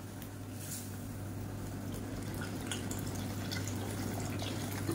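Water is added to sambar in a pan, giving a steady faint pouring and trickling wash over a low kitchen hum, with no talking.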